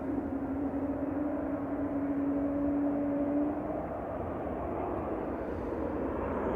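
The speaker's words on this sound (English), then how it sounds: "Just touching down now, coming in from Gran Canaria is 2E flight 2405. This is GFDZX 737-800." A Boeing 737-800 touching down at Manchester Airport, inbound from Gran Canaria, gives a loud, steady jet roar with a whining engine tone that fades partway through, heard from a distance with no talk.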